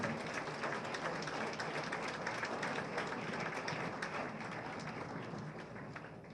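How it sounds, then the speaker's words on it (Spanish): Steady, fairly quiet applause from a forum audience honoring departing panelists, a continuous even patter of many hands that slowly fades. "Despidamos con un aplauso a manera de reconocimiento a nuestros panelistas."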